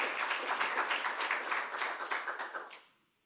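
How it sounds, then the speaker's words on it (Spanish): A church congregation applauds God for a few seconds, rhythmic clapping from a sizable crowd that tapers off and stops near the end. "Give an applause to God."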